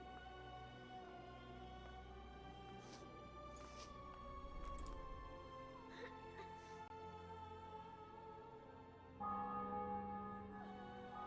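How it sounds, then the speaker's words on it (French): Church bells ring in The Witcher 2 video game with a sustained, resonant tone, individual strikes sounding now and then over a steady hum, fairly faint and distant. "Le son des cloches."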